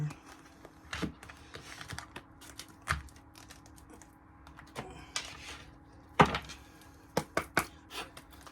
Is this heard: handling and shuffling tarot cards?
yes